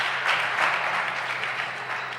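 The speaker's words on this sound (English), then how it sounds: "And then big applause." Spectators at the 2024 BDO Namibian Open break into loud, sustained applause, a dense burst of clapping that fades slightly toward the end.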